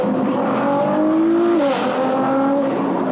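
A Nissan R35 GT-R Nismo engine, tuned to 757 bhp, climbs steadily in pitch under acceleration, briefly drops at a quick gear shift, then keeps pulling; loud and close, heard from inside with the window down.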